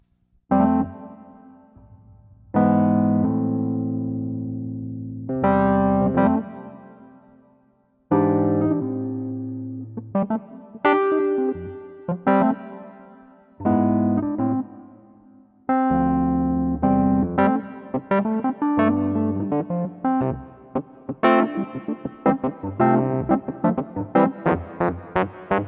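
Electric piano in the Rhodes and Wurlitzer style, played as a plugin with sustain pedal and reverb, ringing out in a series of sustained chords and melodic phrases that tail off into wash, with no voices.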